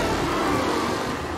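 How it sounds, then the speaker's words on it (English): Car engine in Mafia Definitive Edition driven aggressively, a steady loud motor drone with no speech over it. "Aggressive driving from Angelo."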